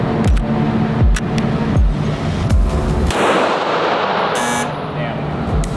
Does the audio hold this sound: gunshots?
yes